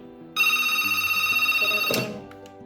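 A steady electronic tone on a phone line holds for about a second and a half, then breaks off, leaving a faint low hum.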